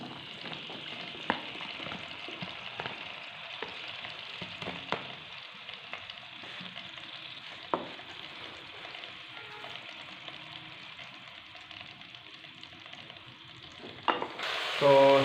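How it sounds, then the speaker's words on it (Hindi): Bell peppers fry in hot ghee in a kadai with a steady, moderate sizzle, broken by occasional stirring clicks and scrapes, with a louder clatter near the end. "इसमें शामिल करूंगा मैं शिमला मिर्च। इसको हमने थोड़ा सा फ्राई करना है।"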